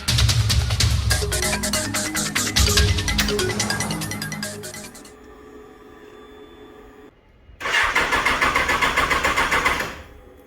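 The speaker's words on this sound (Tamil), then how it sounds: "ஸ்டார்ட் ஆகலை, பார்த்துருப்பீங்க. வண்டி ஸ்டார்ட் ஆகிருக்காது." A motorbike engine cranking but failing to start, a loud burst of turning over that dies away into a quiet pause before a second cranking attempt.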